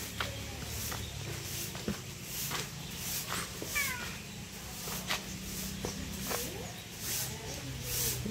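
A cat meows a few times, fairly faint, against a busy background with clicks and distant sounds.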